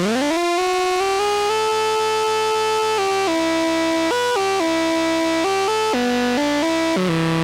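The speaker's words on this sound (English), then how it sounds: "So this is ring modulation, it's not the oscillators we're listening to now." A buzzy, harsh ring-modulated synthesizer tone from a Behringer SE-1X analog synth, with metallic, inharmonic overtones, steps through several pitches, sustained and loud with no talking.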